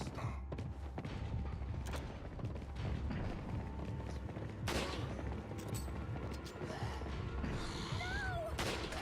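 Gunfire in the survival-horror video game Resident Evil 4, a stream of dull shots and thuds with a few sharper cracks, fairly faint and mixed with game ambience.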